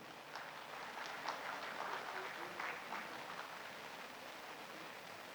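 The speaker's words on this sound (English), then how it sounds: "Let's give him a big round of applause once again" An audience at a tyre recycling industry workshop applauds after a speech, a faint, distant patter of many hands clapping that holds steady for several seconds.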